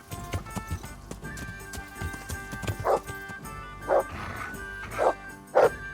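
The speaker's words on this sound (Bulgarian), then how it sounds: "Куче си имаме куче." Dog barking in the medieval role-playing game Kingdom Come: Deliverance, several short yelps spaced a second or so apart over a busy game backdrop with horse hooves and music.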